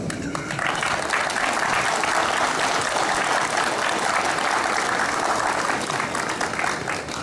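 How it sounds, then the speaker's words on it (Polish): A crowd applauds volunteers at a sports day for people with disabilities in Kwilcz, a loud, dense roar of clapping hands that stays continuous and even throughout, with voices mixed faintly into it. "Myślę, że im należą się naprawdę gorące brawa."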